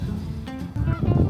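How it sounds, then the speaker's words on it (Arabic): A goose honks close by in a short burst of a few nasal calls, louder toward the end. "وزة مش بطة، وزة."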